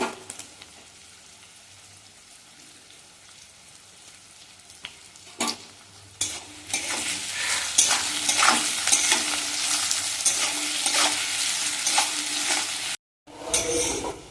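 Chopped onions with a little salt sizzle quietly at first, then frying grows loud and crackling as a utensil scrapes and stirs the pan in repeated strokes, close up, browning them.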